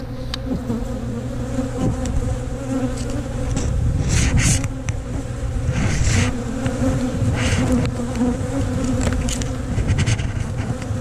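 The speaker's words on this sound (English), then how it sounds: "Nothing in there, just a few robber bees." Honey bees and robber bees buzzing loudly around a hive, a dense continuous drone from many insects close by with swelling passes as individuals fly near.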